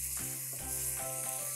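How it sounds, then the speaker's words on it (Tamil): Okra pachadi with coconut paste bubbling and sizzling in a pan, a steady close frying hiss with faint stir-like shifts, and no talking. "மிக்ஸ் பண்ணி நல்லா கொதிக்க விடுறோம்."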